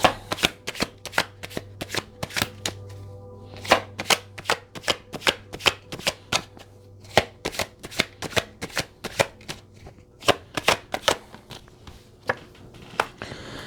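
Tarot cards being shuffled by hand make quick, crisp riffling snaps in a steady, slightly uneven rhythm, close and moderately quiet, with no talking.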